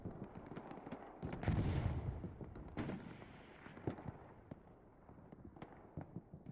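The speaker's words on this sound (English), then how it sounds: "Rockets falling short." Rocket barrages exploding across a battlefield in the WWII shooter Hell Let Loose, a dense rumble of distant blasts and sharp cracks, swelling loudly midway then thinning into scattered far-off booms, with no voices.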